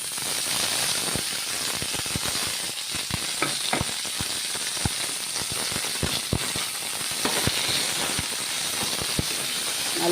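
Chopped ivy gourd (kovakkai) sautés in a pan with a steady, dense sizzle and frequent sharp crackles and pops, continuous and close, with no voices over it.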